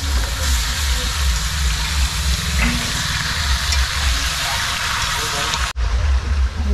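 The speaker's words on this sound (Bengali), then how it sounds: "এই চিকেন পড়ে গেল কড়াইয়ে" Chicken frying in a wok with ginger-garlic paste and spices, a loud, continuous sizzle close up with a brief sharp break near the end.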